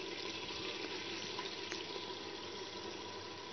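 Gram flour mixed with buttermilk water pours into a ready masala through a flour sieve while making kadhi pakora. It gives a steady, even hiss and faint sizzle, with no talking.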